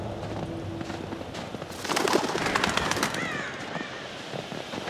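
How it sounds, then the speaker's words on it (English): Crows in the video game Until Dawn burst into a sudden flurry of caws and wing flaps partway through, loud and close over a low ambient rumble, then fade back down. "Crows don't scare me now."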